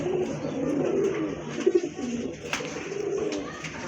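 Rajshahi Giribaj pigeons at a pigeon market coo in soft, low, repeated throaty calls close by, over a murmur of background noise.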